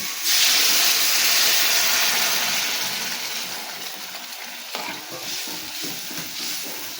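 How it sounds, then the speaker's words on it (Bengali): Water pours into a hot pan of frying potatoes and drumsticks for a Bengali fish curry, setting off a loud, steady hiss and sizzle that gradually settles into a lower bubbling simmer, with no voices. "এবার আমি জলটা দিয়ে দিচ্ছি।"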